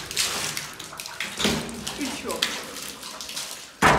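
Water runs steadily from a tap or spout in an abandoned building, a continuous splashing wash under frequent nearby conversation.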